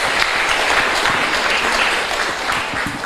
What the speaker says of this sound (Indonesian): Silahkan beri tepuk tangan ke Pak Dokter ya.